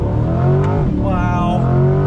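A 2020 Chevrolet C8 Corvette Z51 accelerating hard on throttle, the engine note rising steeply in pitch and loud from inside the car, with a voice speaking over it.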